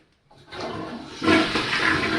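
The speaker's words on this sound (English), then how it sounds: "Flush the potty." A household toilet flushes nearby, starting with a short click, then a loud rushing swirl of water that surges and keeps draining steadily with no talk over it.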